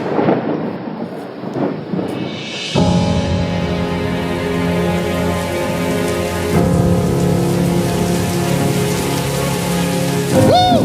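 Heavy rain pours loudly with rumbling thunder, playing as a video in a church service; a low droning tone joins the storm partway through and the downpour builds to a dense, continuous roar with no talk.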